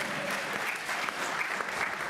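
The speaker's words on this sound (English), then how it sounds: "This is when you're supposed to clap, by the way." An audience at an academic panel on contemporary antisemitism breaks into steady, dense applause that fills the hall evenly for a couple of seconds, moderately distant and without talk on top.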